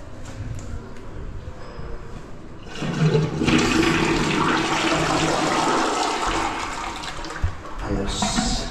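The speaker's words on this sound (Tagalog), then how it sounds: "Yung water closet." A toilet flushes in a newly built vacation house, starting with a quieter trickle and then a loud rushing surge of water that swirls for several seconds before tapering. Faint voices sit underneath.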